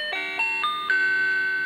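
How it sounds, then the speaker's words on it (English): A toy model bus plays an electronic chime: a few bright, sustained ding tones stepping in sequence, clear and close with no talking. "And the next one is a chime."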